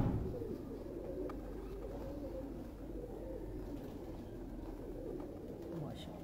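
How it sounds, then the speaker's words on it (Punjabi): An old teddy breed pigeon gives soft, low cooing calls, repeated in a gentle rolling rhythm at close range, over faint background noise and some indistinct voices. "ਇਹ ਕਬੂਤਰ ਹੈ ਜੀ"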